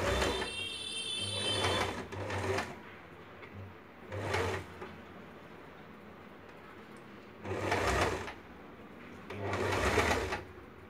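Sewing machine stitching a kali salwar garment, heard in several separate bursts of steady whirring at close range, with quiet pauses between runs.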